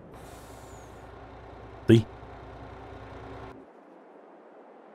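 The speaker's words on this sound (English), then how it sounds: "If I jump in the truck, you'll see that the truck is actually running." A truck idling in Farming Simulator 22: a steady low engine drone under a voice, with a brief sharp hiss partway through, then the engine cuts out abruptly.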